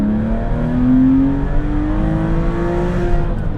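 A naturally aspirated Porsche 911 engine runs close and steady around 3,000 RPM, a smooth throttle rise producing a rising tone in a continuous mechanical note, heard alone.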